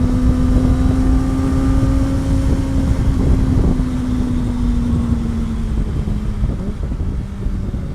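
Strong helmet wind noise while riding a Kawasaki ZX25R with a replaced exhaust: a loud, continuous low roar and rumble with a steady engine drone running underneath, close to the microphone and without letup.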